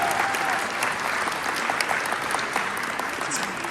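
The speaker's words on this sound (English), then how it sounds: "Give him a big round of applause" A live real-estate training audience gives a big round of applause, continuous close clapping from a packed room.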